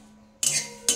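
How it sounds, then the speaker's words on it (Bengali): Neem leaves being dry-roasted in a dry wok, two sharp metallic scrapes and clinks of a utensil stirring against the pan, close and brief over quiet background. "এইভাবে আস্তে আস্তে করে আমি খোলায় ভেজে নিচ্ছি। শুকনো কড়াতে"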